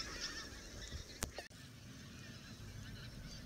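A flock of pink-footed geese moves off with faint, distant honking calls over soft outdoor background noise.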